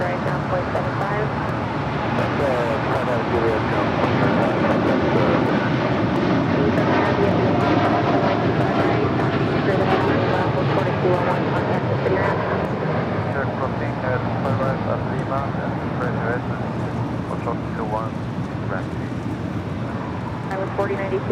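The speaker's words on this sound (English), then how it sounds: "It was flight heading to London, flight 231 in the 787-9 Dreamliner" Boeing 787-9 Dreamliner at LAX on a flight to London, its jet engines producing a sustained loud roar that holds steady, with a voice speaking over it and faint road traffic in the background.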